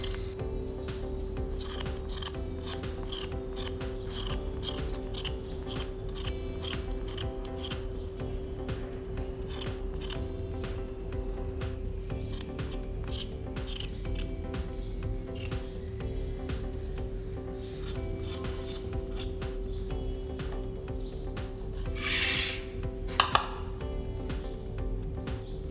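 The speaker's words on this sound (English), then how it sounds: "Now scrub the outer layer of the potal, as outer layer of the potal is very rough." Rough outer skin of pointed gourd (potol) scraped with a knife, a long run of quick, dry scratching strokes up close over a steady low hum, with a brief louder rustle near the end.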